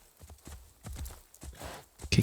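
Hooves of a horse clip-clop in Assassin's Creed Shadows, an uneven series of light thumping steps at a walk, moderately near, ending in a louder burst.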